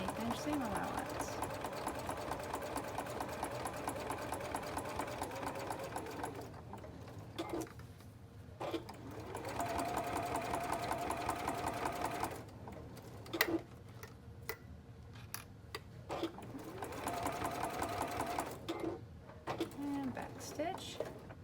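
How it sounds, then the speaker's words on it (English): A sewing machine runs a 1/8 inch seam on a fabric binder pouch in several bursts of steady buzzing stitching separated by short pauses, with quiet talk in the background. "continue to sew with a 1/8 inch seam allowance"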